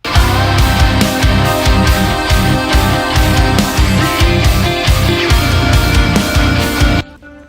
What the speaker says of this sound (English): Say I want a faster glitch after this 1/8 note, so I change it to a 16th note and start cutting it up again.